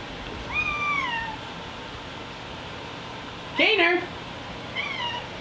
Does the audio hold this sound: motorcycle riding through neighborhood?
no